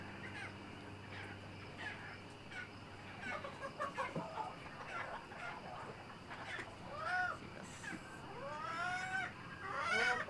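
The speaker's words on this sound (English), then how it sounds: "this is the chickens at night walking around" A flock of chickens moving about at night gives soft clucks and murmurs, then a few louder rising squawks near the end, close by with a faint background hum.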